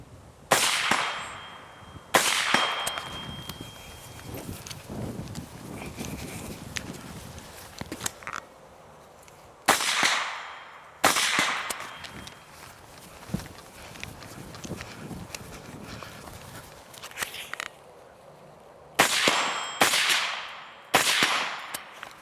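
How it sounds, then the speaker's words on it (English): Carbine fired at a steel gong on an outdoor range: about eight sharp, loud reports spaced a few seconds apart, some followed by a brief metallic ring from the struck plate, with quieter shuffling in between. "I got a steel gong down there, gonna take a couple shots at"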